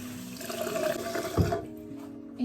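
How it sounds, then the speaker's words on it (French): Warm water runs from a bathroom tap while a face is rinsed, a steady splashing hiss with a brief louder splash near the middle before the flow drops away. "On rince à l'eau chaude ou tiède"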